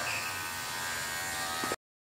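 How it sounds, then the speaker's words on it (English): Wahl Magic Clip cordless hair clipper buzzing steadily while cutting hair with a half-open blade, a close, continuous electric hum that stops abruptly near the end. "First I will be using the Magic Clip cordless with a half open for my guideline all the way around."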